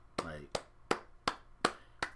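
Six sharp, evenly spaced claps ring out on a sports podcast, slow and deliberate rather than a full crowd's applause, with a brief voice at the start.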